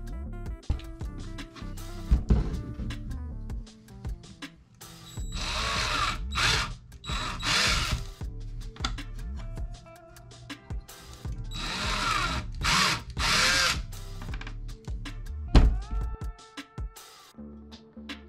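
A Black & Decker power drill boring through small hobby material, several whirring bursts of the motor rising and falling, with clicks and handling sounds between them, close and steady.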